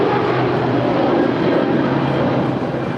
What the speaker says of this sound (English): That is British Airways Flight 282 departing to London Heathrow. It's a 2-year-old Airbus A350 1000